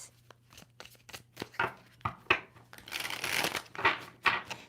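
A tarot card deck is shuffled by hand, close up, in a series of quick papery riffles and slaps that build into a denser flurry of crackly bursts.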